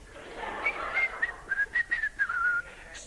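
A person softly whistles a gospel melody alone, the tune rising and falling in short phrases with brief breaths between, close and fairly quiet.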